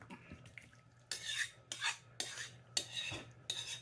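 Squash casserole mixture is stirred in a heavy bowl, a spoon scraping and clinking in several rhythmic strokes, fairly quiet and close, with no talking.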